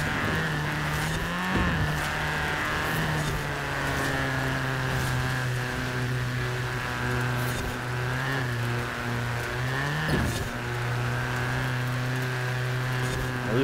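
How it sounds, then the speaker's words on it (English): A Ford Fiesta engine in the racing game Forza Horizon 4 drones steadily and loudly at high revs throughout, with brief dips around gear changes or throttle lifts. "Listen to the engine dying."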